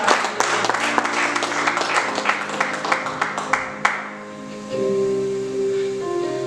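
A church congregation applauds and claps together after a call to praise the word of the Lord, a dense, lively burst of clapping that gives way to a sustained organ-like chord.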